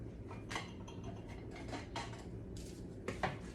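Chicken mixture spooned from a bowl into tin foil, giving light metallic scrapes and clinks of a spoon against the bowl in a few short bursts, close and fairly quiet, with no talking.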